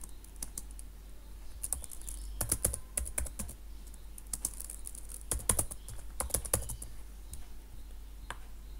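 Bursts of fast typing on a computer keyboard, close and crisp, with short clusters of key clicks separated by brief pauses and no voices.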